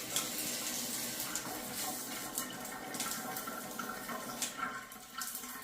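Water trickling and dribbling from a faulty Delta shower head, a steady soft splashing wash with small irregular spatters, close and fairly quiet.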